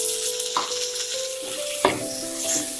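Chopped tomatoes sizzle in a hot pan of browned onions for puffed rice upma, with a couple of clear spatula scrapes and clinks breaking through the steady frying hiss; no one talks.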